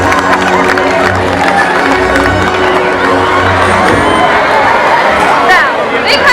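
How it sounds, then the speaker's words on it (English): Audience at a SeaWorld San Diego orca show applauding and cheering loudly, a dense continuous wash of clapping, whoops and crowd chatter filling the stadium throughout. "Let's give everyone a big round of applause."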